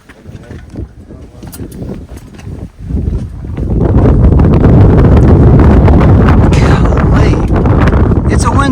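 Strong wind roars through a narrow canyon passage on a Cataract trip, starting as gusty buffeting, then building into a loud, sustained rush against the microphone.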